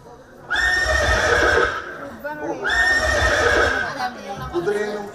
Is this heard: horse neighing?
yes